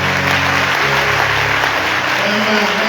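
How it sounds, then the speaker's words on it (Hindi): Crowd applauding at a youth worship conference in Islamabad, a full, steady burst of clapping filling the hall with a voice faintly beneath it. "और फिर तालियां।"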